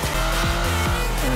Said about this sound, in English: Look at that drift.